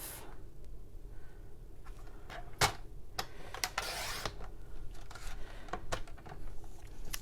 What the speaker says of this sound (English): So let me just trim that one down.